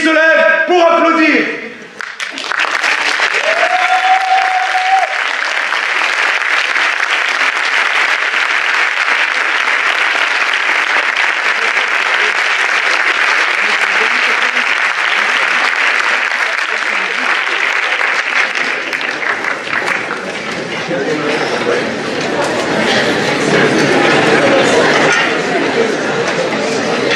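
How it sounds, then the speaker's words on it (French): Audience applause at the final of a French eloquence contest: a dense, loud, sustained ovation that swells right away and rolls on steadily for over twenty seconds, thinning slightly toward the end. "J'ai la volonté que le public se lève pour applaudir."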